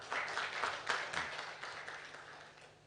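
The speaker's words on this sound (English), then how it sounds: "they really need a big hand clap for this." Brief applause from an audience at a breakfast meeting, a soft, fairly distant patter of many hands that gradually dies away.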